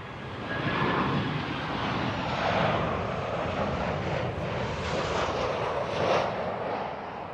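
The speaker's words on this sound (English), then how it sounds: "There's another plane coming in." A propeller airplane drones overhead on approach in Hobart, Tasmania, its engine noise swelling and fading slightly as it passes, with strong wind in the background.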